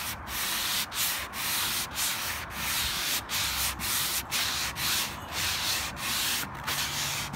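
An 80 grit sanding block rasps back and forth across glazed wood in a quick, even rhythm of close, scratchy strokes with short pauses between them, under a black glaze barnwood finish, with no voices.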